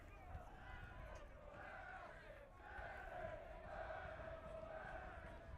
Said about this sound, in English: With his Mariners behind the goal, cheering on their side.